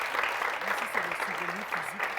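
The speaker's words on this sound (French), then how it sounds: "On peut applaudir très fort." An audience at a live Valentine's Day special show applauds loudly and steadily while a person keeps talking over the clapping.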